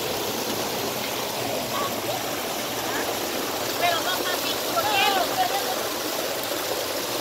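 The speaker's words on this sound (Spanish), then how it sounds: "Aquí son el área de los chorros." Water jets pour steadily into the pools of the Agua Tibia warm-water bathing resort in San Marcos, making a broad, continuous rushing and splashing wash with faint voices in the background.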